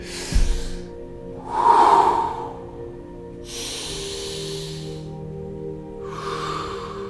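Slow, deep breaths in and out, each long and airy with pauses between, close and fairly quiet against a soft steady background hum.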